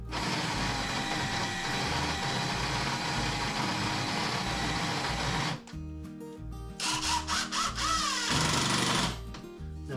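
Power drill boring a countersink into wood for a workbench, a loud steady whine for several seconds that stops, then short uneven bursts of drilling with pauses between them.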